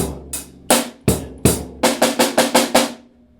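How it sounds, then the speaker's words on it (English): A half-bar fill played entirely on snare drum: several spaced strikes followed by a quicker run of about six even hits, loud, close and unaccompanied, ending in a short decay. "There's going to be a half of a fill, but it's going to be all snare drum."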